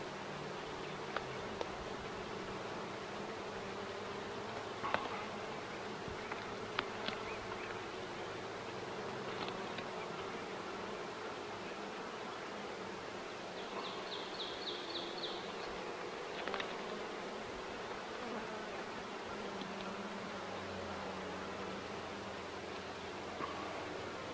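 Honeybees hum steadily throughout an open beehive during a brood chamber inspection, a dense, continuous close buzz with faint rustling and a few small knocks, no voices.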